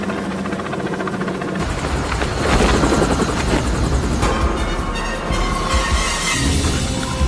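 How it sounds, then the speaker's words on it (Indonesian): A helicopter roars loudly and continuously, its dense rotor noise filling the whole clip with a steady, close, throbbing drone. "sambil menunggu Franz datang menggunakan helikopter."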